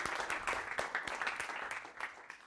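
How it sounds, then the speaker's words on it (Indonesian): Students in a classroom clap for a group that has just presented, a soft, moderately dense round of applause from a small crowd, steady throughout and fairly faint. "Kasih tepuk tangan buat kelompok 1"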